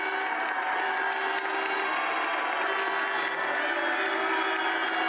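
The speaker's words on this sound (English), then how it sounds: "the crowd is hanging around to greet every competitor" A stadium crowd cheers and applauds competitors arriving at the Winter Universiade, a dense, steady roar of many voices filling the whole stretch at constant loudness, with a faint tone running beneath it.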